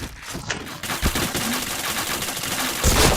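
Video game gunfire rattles in rapid, dense bursts, loud and close, with a heavier burst near the end and no talk over it.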